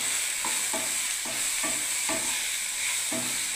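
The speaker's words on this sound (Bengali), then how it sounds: "এবার আমি নাড়তে থাকবো।" A mustard and poppy seed curry is stirred in a pan, the utensil scraping in a regular rhythm about twice a second over a constant close sizzling hiss.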